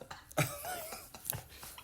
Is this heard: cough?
yes